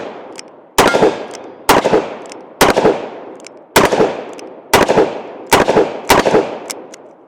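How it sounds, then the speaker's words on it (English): Seven loud, sharp gunshots from an R8 revolver fitted with a Midwest Industries brace, fired one at a time at roughly one-second intervals, each crack close and followed by a short decaying echo. "Let's go ahead and take some more shots with the R8."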